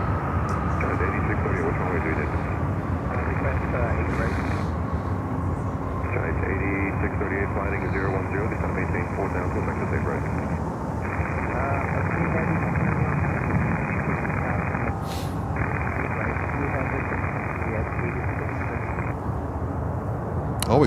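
A Boeing 747-400 airliner on runway 9, a broad continuous engine roar heard from outside that stays loud and steady throughout, with someone talking over it.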